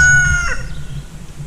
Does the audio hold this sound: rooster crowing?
yes